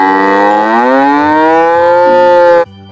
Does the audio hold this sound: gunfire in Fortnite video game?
no